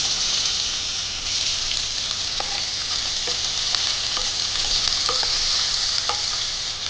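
Chopped onion hits hot oil already fragrant with cardamom, cinnamon and cloves, giving a steady, bright sizzle with scattered crackles and pops throughout, close and continuous, with no talking.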